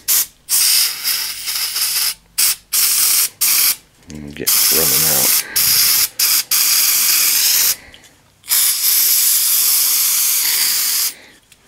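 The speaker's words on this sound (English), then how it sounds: "Carbon choke cleaner takes that stuff right off." Carbon choke cleaner hissing from an aerosol can into a homemade wood gasifier, loud repeated close-up spray bursts of varying length with short gaps, someone briefly speaking between them.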